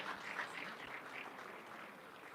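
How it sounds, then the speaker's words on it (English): An audience at an international event hall applauds, a faint, even patter of many hands heard from a distance and continuing steadily throughout. "let's give that a round of applause"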